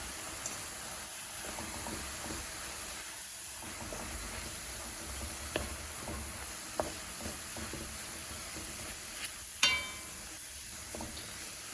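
Vegetables in chili sauce sizzle softly in a pan for a meat-free lasagne while a utensil stirs them, with occasional scrapes and clinks, one sharper knock standing out near the end.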